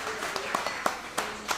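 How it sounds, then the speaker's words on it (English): Guests at an on-site boys swimming and diving event give a light round of applause, a handful of separate, sparse claps popping out one by one over a quiet room murmur. "Give a little bit of round of applause here."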